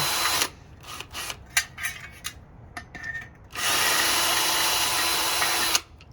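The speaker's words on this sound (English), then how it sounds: "we already drilled it a little bit with one drill bit, and it wasn't enough, so we're just going a little extra" A power drill bores into an arcade cabinet in short bursts, a series of brief stutters, then a loud sustained whir for a couple of seconds before it stops.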